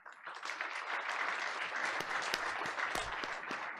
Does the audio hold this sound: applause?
yes